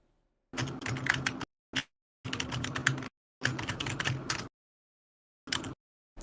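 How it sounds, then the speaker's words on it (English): Loud clattering on a computer keyboard, coming in several dense bursts of rapid keystrokes broken by short silences and a few brief isolated taps, close and alone with no talk. "You are typing quite loud."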